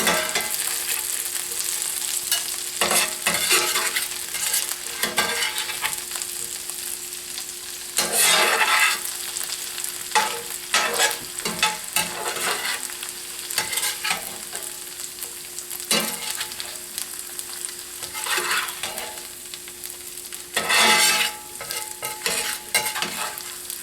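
Onions and garlic sauté in a pan alongside braised chicken and vegetables, giving a steady close sizzle broken by repeated stirring scrapes and utensil clatter, with no talking.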